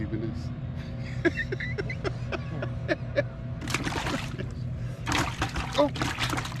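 Water splashes and sloshes beside a fishing boat while crappie fishing, coming in bursts of spray that rise over a steady low engine or wind rumble, with people talking close by throughout.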